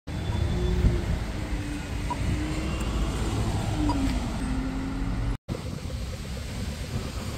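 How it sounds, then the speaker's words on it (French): Steady traffic and bus-station ambience in New Zealand, a continuous low rumble of idling and passing vehicles with a brief dropout near the end, no talk. "Je viens d'arriver à la gare de bus."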